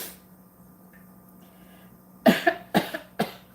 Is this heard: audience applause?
no